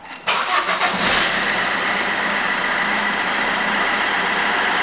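A Fiat Grande Punto engine cranks briefly and catches after a fuel filter change, then settles into a loud, steady idle close by with no one talking.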